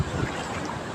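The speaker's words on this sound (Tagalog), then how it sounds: "parang lalaki po ngayon ang alon" Large sea waves roll in along a coast where fishing boats are pulling in their nets, heard as a steady, loud rushing wash with wind buffeting the microphone throughout.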